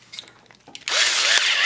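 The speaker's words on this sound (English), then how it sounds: "we're going to drill the head off the rivet" A power drill bites into the head of a rivet on a Hot Wheels BMW E30 M3 die-cast car after a few light taps and clicks, then whines loudly and steadily up close.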